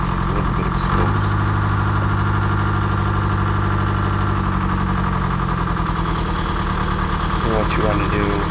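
A loader's engine idles steadily as the machine drives onto a tire chain, a loud, low, continuous rumble with a brief change in tone near the start and some knocking toward the end.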